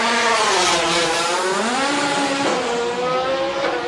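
Race car engine from Samy Guth's car at the Abresch hill climb, loud and close, its pitch climbing through the gears with a couple of quick shifts, a continuous high-revving whine with no voices.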